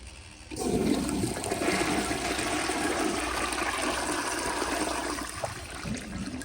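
A 1951 Crane Neuday toilet on a flushometer flushing, a sudden loud rushing whoosh of water that starts abruptly and pours steadily for several seconds close by, easing slightly at the end.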